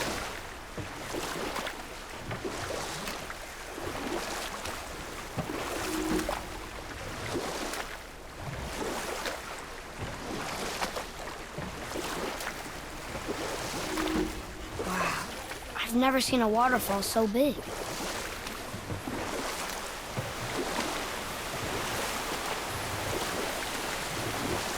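Boat moving across a lake in God of War (2018), a steady wash of water and wind running throughout beneath frequent talking, with a vast waterfall roaring nearby.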